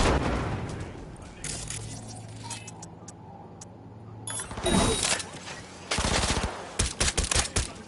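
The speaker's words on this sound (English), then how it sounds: "Shots fired!" Bursts of automatic gunfire and clattering shots from a Cyberpunk 2077 firefight, loudest in quick rattling volleys toward the end after a quieter stretch of mechanical ticking and hum.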